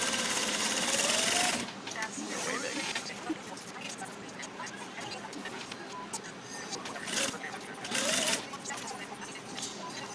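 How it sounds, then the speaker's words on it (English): A sewing machine runs steadily for about ten seconds, top stitching fabric along marked lines on a quilted project. It is loud at first and drops slightly after the opening bursts, with faint talk underneath. "we're just going to top stitch these down on those lines, and that holds this guy on"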